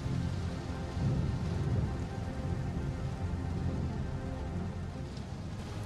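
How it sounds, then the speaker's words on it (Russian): Steady rain falls at night near a harbour, a constant dense wash of patter at moderate level with no voices. "Все еще идет дождь."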